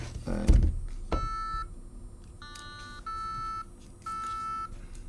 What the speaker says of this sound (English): it's going to beep away at me.